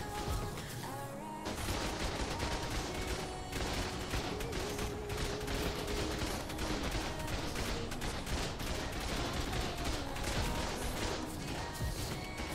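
Dense, continuous automatic gunfire from turrets in the survival video game Ark during an online raid on a snow base. It fills the whole stretch at steady volume, layered with tonal game sounds and no clear talk.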